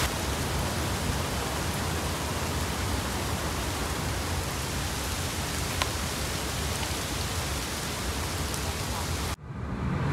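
Rain falling on trees in a green park, a dense steady hiss of drops all around that cuts off sharply just before the end.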